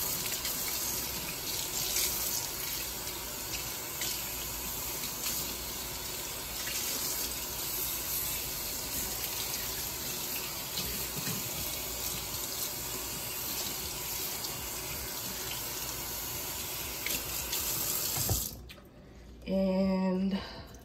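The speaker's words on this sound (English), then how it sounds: "Just continue to rinse all that conditioner out." Tap water runs steadily and softly while conditioner is rinsed out of a lace frontal wig, with a faint continuous splash and a few wet squishes near the end, and no talk.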